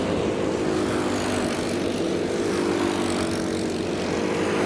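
Honda Cadet racing karts in a heat at Whilton Mill circuit make a loud, continuous buzzing engine drone, steady and close, with no talking over it.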